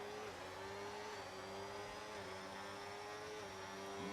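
Formula 1 cars in an F1 racing game pile past in a steady, high-pitched engine whine, a smooth continuous drone with slight pitch rises, heard faintly at low level.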